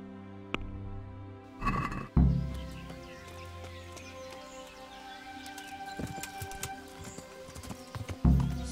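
A horse nearby shifts and stamps with occasional hoof thuds, while faint birdsong and a soft tonal hum sit in the background.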